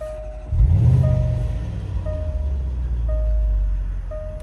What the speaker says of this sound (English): Put it in accessory mode to start, to open the exhaust valves, and then we'll give it a start.